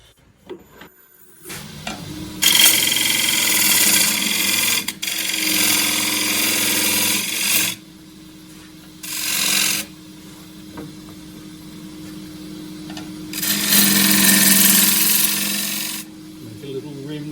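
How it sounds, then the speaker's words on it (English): A shear scraper cuts an ash wood core spinning on a lathe, giving loud hissing, rasping passes in several long bursts separated by quieter gaps where the lathe hums. "The shear scraper tilted right up on edge, shear scrape down the corner."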